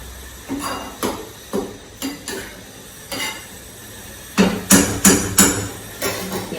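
A spoon taps and breaks up lumps of ragi rava upma in a pan, giving a steady run of separate knocks, some louder near the end, with faint sizzling underneath.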